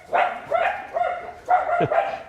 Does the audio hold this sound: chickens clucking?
no